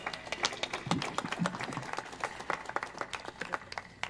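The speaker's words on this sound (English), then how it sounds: "Let's give Dr. Okech a better clap." Graduation ceremony audience applauding, a dense patter of many hands clapping in a large hall, steady and fairly loud throughout, with no speech over it.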